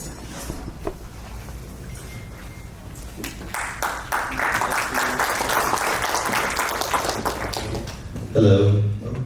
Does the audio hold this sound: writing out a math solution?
no